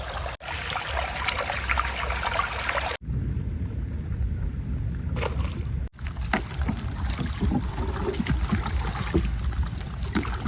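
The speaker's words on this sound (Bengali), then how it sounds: "বৃষ্টিটা কিন্তু ভালো জোরে হচ্ছে।" Heavy rain pours on a river in the Sundarbans during a Kalbaishakhi storm while out fishing by boat, a dense, steady roaring hiss with a few abrupt short breaks.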